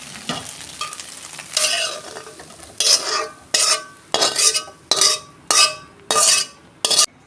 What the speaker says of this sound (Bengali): এই যে আমার ভাজা হয়ে গেছে, ডিম আমি ঢেলে ফেলছি।